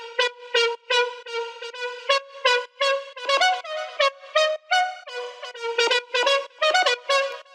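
Layered Serum synth leads for a house track, one mono and one stereo, play together in a bright, bouncy run of short plucked notes with quick stabs and gaps, loud and alone.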